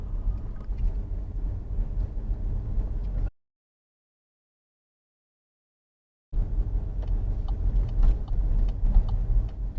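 A car on a real driving test climbs a hill under extra throttle, its engine a steady low rumble mixed with road and wind noise, cut by about three seconds of dead silence midway.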